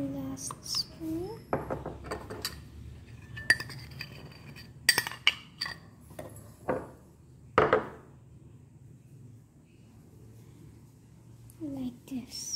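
A spoon clinks against a glass while dangola coffee is stirred, giving several sharp bright taps at irregular intervals over quiet kitchen handling noises, close by.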